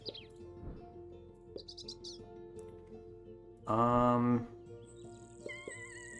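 Bird calls from the Wingspan bird game: a few quick high chirps and trills, a brief louder harmonic squawk midway, then a thin sustained whistled note near the end, all fairly faint over a quiet background.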